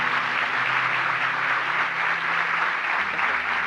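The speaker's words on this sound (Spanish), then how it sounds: "La vamos a recibir con un aplauso" An audience at an academic mindfulness-in-medicine lecture gives a steady, even round of applause to welcome the speaker, dense and continuous without pause.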